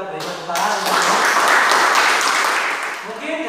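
An audience of students in a classroom quiz bursts into applause for a correct answer, a dense burst of clapping that swells, holds for a few seconds and fades.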